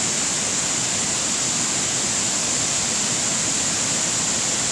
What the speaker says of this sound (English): There's a huge waterfall down there.